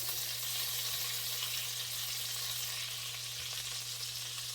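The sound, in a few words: butter melting and sizzling in a wok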